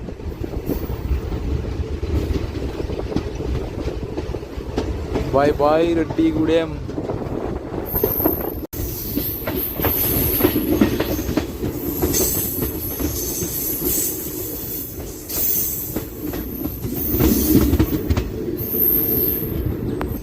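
Guntur-Macherla passenger train running on rails after leaving Reddigudem station: a steady, loud rumble and clatter of wheels throughout, with brief squeals, and voices speaking over the noise.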